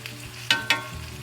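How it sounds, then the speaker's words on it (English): Dak-galbi chicken sizzles steadily in an enamelled cast iron pan, with two sharp scrapes of a wooden spoon cutting through the close, continuous frying hiss. "That saute for a bit."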